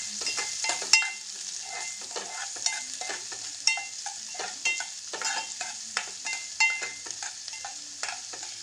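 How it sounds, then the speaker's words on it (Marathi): Finely chopped onion with chilli sautéing in a pan and stirred until reddish; a soft constant sizzle with regular scraping strokes and light spatula taps, close and without talk. "कांदा बारीक शिजलेला व्यवस्थित परतून घेऊया लालसर होईपर्यंत"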